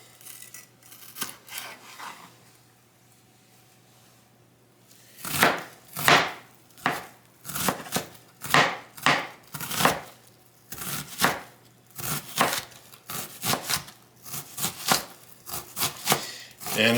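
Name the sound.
chopping vegetables into chunks for a hoagie dip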